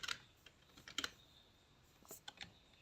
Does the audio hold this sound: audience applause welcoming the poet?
no